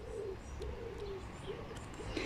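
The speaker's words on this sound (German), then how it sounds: "jetzt höre ich wieder einen Vogel" A bird coos softly outdoors, probably a pigeon or dove, giving a few low, drawn-out calls over a steady background hum.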